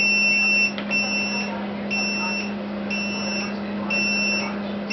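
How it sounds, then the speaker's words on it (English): A LiPo battery discharger sounds its alarm, a high electronic beep repeating in regular pulses about once a second over a constant low electrical hum. "The alarm's annoying."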